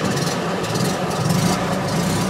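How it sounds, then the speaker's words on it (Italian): A Fiat 500 engine runs at a steady idle after starting, a continuous low rumble with a faint vibrating texture, close and alone throughout. "Beh, il motore è partito. È stato un po' come risvegliarlo da un lungo sonno. Si tratta di quello di una Fiat 500"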